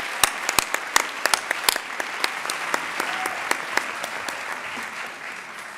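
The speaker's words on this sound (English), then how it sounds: "Let's give them another warm round of applause for their poise under pressure." An audience applauds contestants at the Mr. Pelican 2016 pageant, a warm round of clapping from a room full of people, with a few sharp, close claps standing out early before the ovation gradually softens.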